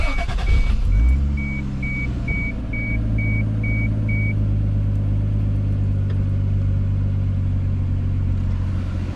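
Toyota 7M-GTE engine cranking and catching, then settling into a steady, loud, low rumbling idle with a constant hum, while a regular electronic beep sounds several times early on.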